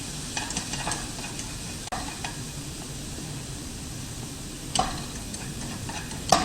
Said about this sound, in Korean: 당근은 익을 때까지 약불이나 중불로 줄여주시고 그 다음에 속에 익을 때까지 좀 볶아줍니다.